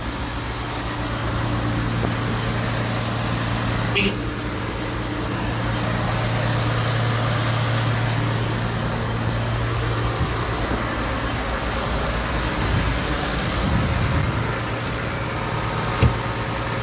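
Trucks and traffic crawl past at Dublin Port during a hauliers' protest, a steady rumbling engine idle and road noise with a low hum, close and continuous, with a couple of faint knocks.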